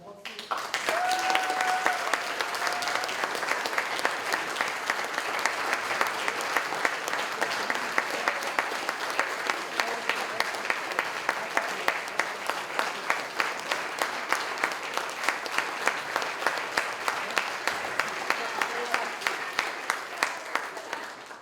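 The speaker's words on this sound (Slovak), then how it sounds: "si zaslúžia obrovský potlesk" A large audience applauds at length after a school theatre performance by art school pupils, dense sustained clapping that holds steady for over twenty seconds, with a brief voice audible near the start.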